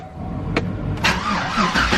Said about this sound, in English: It idles when the battery's actually charged.